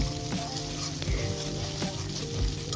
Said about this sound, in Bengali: এখন একটি ডিম দিয়ে খুব ভালো করে নেড়ে চেড়ে নেব।